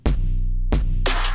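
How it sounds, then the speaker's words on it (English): An empty trap beat without a lead: heavy deep sub bass sustained under punchy kick hits and a bright hi-hat or snare burst, loud and dense with no voice. "Just an empty little trap beat without a lead."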